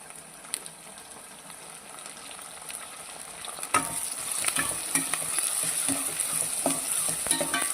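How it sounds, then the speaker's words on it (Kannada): Chopped onions and tomatoes sizzle in a pan while a spoon scrapes and stirs them, soft at first then louder and steadier after the tomatoes go in, close with no voices. "ಈಗ ನೋಡಿ ಆನಿಯನ್ ಕೂಡ ಸ್ವಲ್ಪ ಫ್ರೈ ಆಗಿದೆ ಈಗ ಇದಕ್ಕೆ ನಾವು ಕಟ್ ಮಾಡಿರ್ತೀವಂತ ಟೊಮೆಟೊನ ಆ್ಯಡ್ ಮಾಡ್ಕೊಳ್ಳೋಣ"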